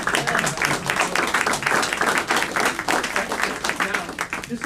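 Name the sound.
audience applause for a speaker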